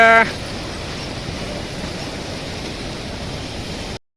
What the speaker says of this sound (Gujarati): જબરદસ્ત પાણી હાલ્યું જાય છે.